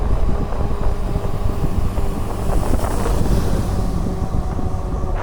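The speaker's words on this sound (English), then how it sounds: "what it's like to actually cruise around on an e-bike, just coasting basically" Strong wind buffets the microphone as an e-bike coasts outdoors, a loud, continuous rumbling roar with gusty swells and no clear motor or voices.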